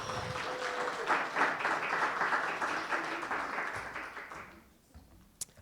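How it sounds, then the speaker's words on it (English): An audience at a business accelerator's final presentations breaks into sustained applause, steady dense clapping for several seconds before tapering off, with one sharp tap near the end. "Let's get a round of applause for Jayce."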